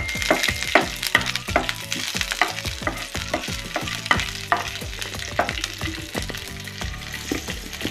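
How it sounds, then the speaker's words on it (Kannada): Halved green chilies fry in hot oil in a pan for masala puri. A continuous sizzle runs throughout, with repeated sharp clatters of a spoon stirring against the pan. "ಮೆಣಸಿನಕಾಯಿನ ಈ ರೀತಿ ಮಧ್ಯಕ್ಕೆ ಅರ್ಧ ಭಾಗವಾಗಿ ನಾವು ಮುರಿದು ಹಾಕಿದ್ರೆ ತುಂಬಾ ಬೇಗ ಫ್ರೈ ಆಗುತ್ತೆ"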